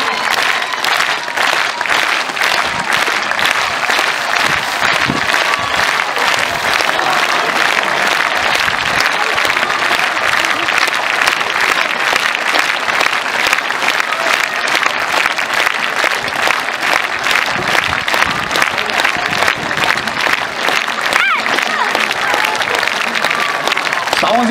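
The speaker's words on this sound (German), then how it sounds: "Und für die beiden machen wir nochmal das rhythmische Klatschen." An arena crowd at a Gladiators sand-arena show claps in unison, a loud, dense wall of rhythmic beats pulsing steadily for the whole stretch with crowd noise blended in.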